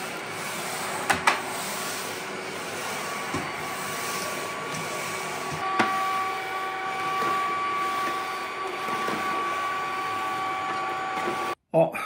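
A vacuum cleaner drones steadily at home for several seconds with a continuous motor whine and airflow hiss, a few knocks along the way, then cuts off abruptly near the end.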